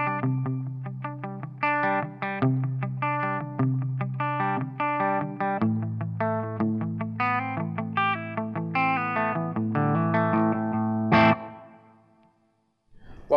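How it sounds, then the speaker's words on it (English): Electric guitar plays a series of chords and picked notes through a Marshall MG100fx amp with reverb at half, ending with a final strum that rings out and fades. "Added reverb on half and you get this kind of sound."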